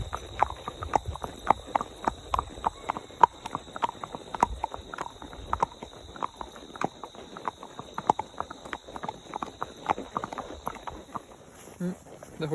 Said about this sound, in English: I love hearing their feet on the asphalt.